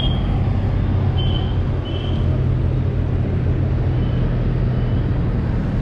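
A Hyundai Verna SX 1.6 diesel on low-profile tyres drives along steadily, with a constant, loud rumble of engine and road noise heard from inside. There is no talk.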